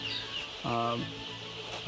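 Chickens in a poultry house let out a brief, moderately near cluck amid a soft background of faint flock noise.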